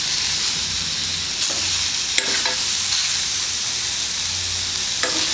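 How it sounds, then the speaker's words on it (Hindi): A spoon scrapes and stirs pumpkin sabzi mixed with spices in a pan over a constant close sizzle of frying. Several brief clinks sound against the pan, and no one speaks. "अभी सारे मसाले मिलाने के बाद इनको बहुत अच्छी तरह से मिला लेंगे आपस में।"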